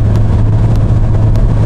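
Lifan Murman car accelerating on a test drive, a steady loud low engine drone with road rumble, continuous throughout and no talk.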